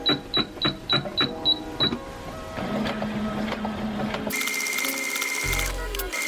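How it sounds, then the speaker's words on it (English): A home sewing machine hems a thrifted top up close, first in a rhythmic series of short stitching bursts, then in a steady, continuous mechanical whir, before an abrupt cut to a different, brighter sound near the end. "now it's time for the actual sewing part"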